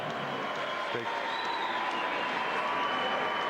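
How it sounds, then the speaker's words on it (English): Crowd at a mixed martial arts event applauds a veteran fighter, a steady wash of clapping and cheering in a large arena with a faint voice over it. "Let's give him a hand."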